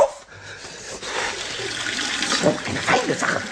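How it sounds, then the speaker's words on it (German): Water running steadily from a turned-on tap in a workshop, a continuous rushing splash that swells slightly and carries on throughout, in a children's radio play. "und jetzt den Wasserhahn wieder auf"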